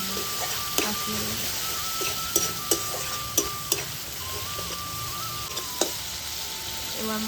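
A chilli powder and salt spice paste sautés in oil, giving a steady close sizzle broken by sharp clinks and scrapes as a spoon stirs the pan, while a thin whining tone runs faintly underneath.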